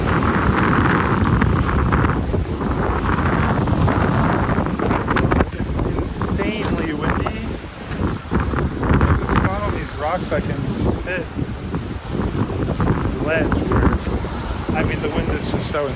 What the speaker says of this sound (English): wind is just so intense